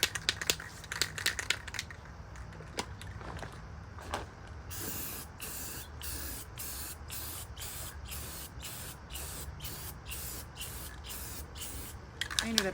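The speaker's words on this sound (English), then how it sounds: "I also follow up with a clear coat over the top of it just so they have" Aerosol clear coat is sprayed over a painted dresser in a quick series of short hissing bursts, preceded by rustling and handling noises, fairly faint and close with no talking.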